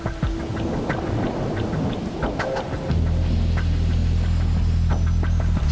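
Steady rain falling outdoors, a dense continuous hiss with scattered drips, joined midway by a low rumbling hum that persists to the end.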